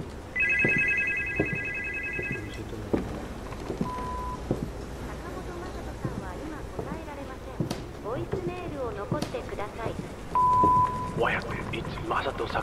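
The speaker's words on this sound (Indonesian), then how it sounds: "Atau ada telepon yang lain lagi." Telephone ringing in a supernormal ghost-mystery video game, a short repeated electronic ring near the start, followed by a game character speaking over background ambience with footsteps and clicks.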